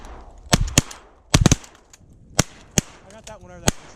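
Shotgun blasts during a duck hunt over a flooded milo field, a series of loud sharp reports in quick pairs and singles with distant echoes, and brief duck quacking near the end.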